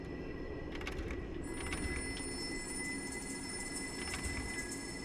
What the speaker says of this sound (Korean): 또 전화기 소리.